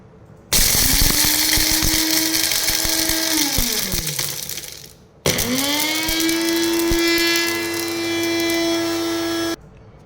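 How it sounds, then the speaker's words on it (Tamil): A blender whirs loudly in two bursts, grinding onion and pepper without water, each running a few seconds at a steady high-pitched grind, with a short pause between them. "இப்போ தண்ணி எதுவும் ஊற்றாமல் பிளெண்ட் பண்ணி எடுத்துப்போம்"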